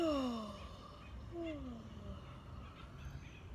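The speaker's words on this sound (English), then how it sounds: "Hence the yawning." A person yawns quietly, two drawn-out yawns that fall in pitch, one at the start and a second about a second later, trailing off into faint room noise.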